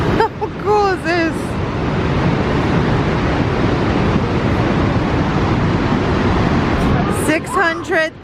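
Niagara Falls roars with a constant broadband rush of falling water, loud and close, filling the whole stretch while people talk over it at the start and end.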